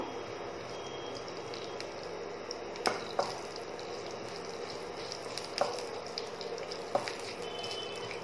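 Cumin seeds spluttering in hot oil in a pan while making masala idli: a continuous close crackling sizzle with a few sharp pops scattered through it, moderately quiet.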